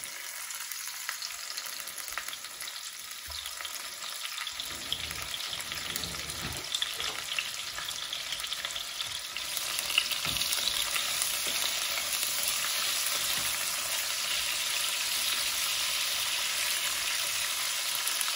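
Cooking oil sizzles and crackles steadily in a pan while beef slow-cooks, a dense continuous hiss that swells a little louder partway through, with no talking.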